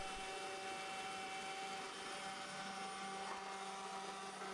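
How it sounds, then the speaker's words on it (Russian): Bosch ErgoMixx MS6CM4190 immersion blender with its chopper attachment chopping dill, a steady, close motor whine holding at an even level throughout. "Универсальный нож с легкостью превращает крупный укроп в мелкую нарезку"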